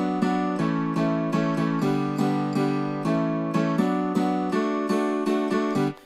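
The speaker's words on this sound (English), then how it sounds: "we have the piano in the sides and we have the guitar in the middle" Piano panned to the sides with guitar centred, the two playing together in a steady chordal pattern with frequent attacks and sustained harmonies, full and continuous until a quick fade at the end, no voices.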